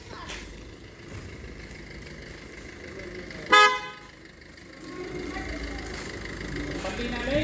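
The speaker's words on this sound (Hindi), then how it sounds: "गाड़ी निकाल रही है यहाँ से।" A car horn gives one sharp, loud honk close by as a vehicle drives out past, over a low engine rumble, and people talk around it.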